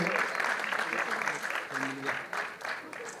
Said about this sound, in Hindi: और जोरदार तालियां बजती रहे, बजती रहे, बजती रहे